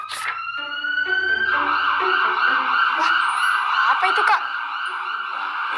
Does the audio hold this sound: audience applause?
no